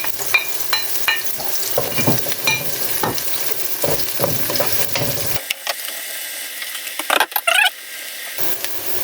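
Garlic and onion sautéing in a pan for chicken kaldereta, with a steady close sizzle, repeated scraping strokes of a spatula against the pan and a brief clatter near the end.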